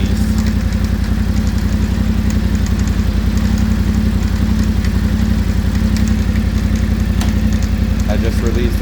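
A Yamaha Tenere 700 motorcycle engine with a Barnett clutch runs in gear with the clutch released, a steady close rumbling idle with a clattery mechanical rhythm that holds unchanged throughout.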